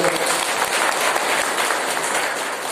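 An audience at a political gathering for a Matarbari constituency MLA bursts into loud, dense applause, many hands clapping together steadily and close throughout.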